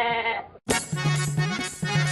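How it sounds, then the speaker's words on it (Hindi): A male goat, the star of a film shown at its music launch event, bleats in a loud, wavering call that breaks briefly and then resumes in a longer, strained cry, with no speech over it. "यही बकरा है फिल्म का लीड हीरो शाहरुख"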